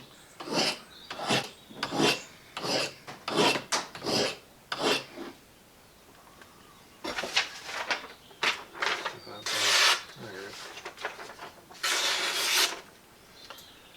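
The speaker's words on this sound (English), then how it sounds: "So that's sharpening at the 25-degree setting there." A cheap kitchen knife blade is stroked against a sharpener at a 25-degree angle, producing about a dozen close, rasping scrapes in a regular back-and-forth rhythm, with brief pauses between passes.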